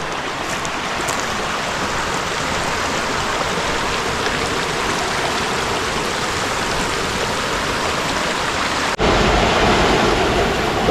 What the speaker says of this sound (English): Just gonna head up here to the river.